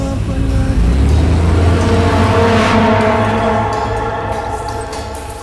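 A car's engine revs loudly and steadily as it pulls out of a garage and drives off, a deep throaty rumble that holds strong for several seconds before easing slightly toward the end, with no voices over it.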